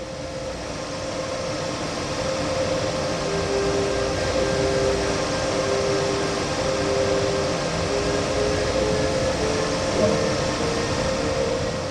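An MRCE BR185.5 electric locomotive in Train Sim World starts to move, giving a steady electric hum with faint tonal whine and low rolling rumble that holds at a constant level throughout.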